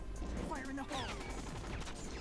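Rapid gunfire bursts crackle in a shooter video game, mixed with mechanical clatter and game effects, while someone talks over the action.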